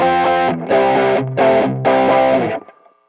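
An electric guitar played through the OD1 overdrive effect of a BOSS PX-1 Plugout unit rings out in three loud, sustained distorted chords with brief gaps, the last one fading out.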